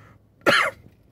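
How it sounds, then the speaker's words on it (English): A single sharp, close cough from an angry man, brief and loud against quiet room tone. "I'm so mad I'm coughing."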